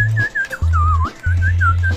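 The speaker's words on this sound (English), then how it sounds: "I'm probably peaking my mic levels right now by whistling." A person whistles a loud, close, wavering melody that slides up and down, with a low droning hum cutting in and out underneath.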